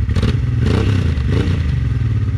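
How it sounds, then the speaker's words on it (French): A Honda Transalp 600 motorcycle engine, freshly replaced, starts cleanly and runs loud and close with a steady low rumble, mixed with some mechanical clatter. "Le moteur il démarre. Ça y est, ça. Ah, il démarre net, impeccable."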